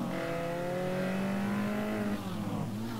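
Manana car in the racing game GTA San Andreas multiplayer, driving and revving, its engine a steady close drone with rising and falling pitch sweeps throughout, no voices.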